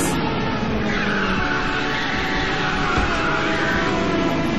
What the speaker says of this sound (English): Another driver fired his nitrous.